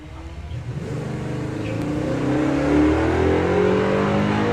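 A Mazda MX-5 drag car at a drag racing event, its engine revving and building in pitch as it launches and accelerates away, loud and steady with no talk.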